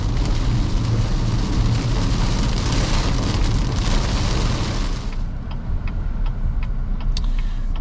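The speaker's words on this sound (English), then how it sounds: "this is some pretty heavy rain we got here" Dense, loud rain drums on a moving 2024 Chevy Equinox RS with a constant roaring wash, easing slightly near the end as scattered drops tap through.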